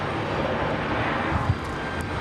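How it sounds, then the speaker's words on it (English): A business jet touches down at Raleigh Durham International Airport, its engine roar a steady, broad rumble at moderate distance, with a brief thump near the end and no talk. "Our exec jet touching down back here, as you guys I'm sure heard."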